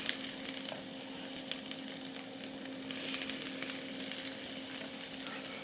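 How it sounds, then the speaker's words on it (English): Tomatoes sauté in oil in a hot pan for Moroccan tomato jam, a soft continuous sizzle with faint crackles and a low steady hum beneath, fairly quiet and close, no voices. "Now I've got a hot pan here. And I'm going to go ahead and put some oil in that. And I'm going to start to saute this up."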